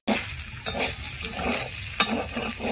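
Sizzling paneer roll filling with soy and tomato sauce is stirred in a hot pan, a spatula scraping rhythmically with a couple of sharp clinks against the metal, close and steady.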